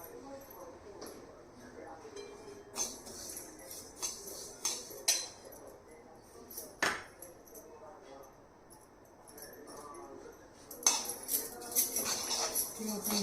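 Sesame seeds roast in a pan while a metal spatula stirs them, making irregular clinks and scrapes, heaviest near the end, as a person talks throughout.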